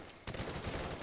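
Automatic gunfire in the video game Call of Duty Black Ops, a sudden dense burst of rapid shots that starts after a brief quiet moment and continues for under a second.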